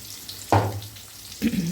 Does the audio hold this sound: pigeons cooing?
no